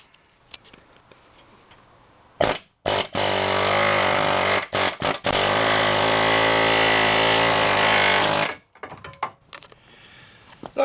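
Air hammer pounding a pickle fork to pop loose an outer tie rod end on a Chevy Blazer / GMC Jimmy: loud, close rapid hammering in a short burst, a few brief stutters, then a long sustained run before stopping.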